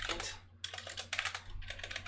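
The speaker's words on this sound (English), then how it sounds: "My typing is really terrible" Typing on a computer keyboard during a programming lecture, rapid clattering keystrokes in bursts with a short pause between them, close and fairly quiet over a steady low hum.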